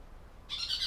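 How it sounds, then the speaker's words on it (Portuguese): A bird sings briefly from a distance, a short faint high chirping phrase that starts abruptly after a moment of quiet. "E Abigail, ouviu o canto dos pássaros?"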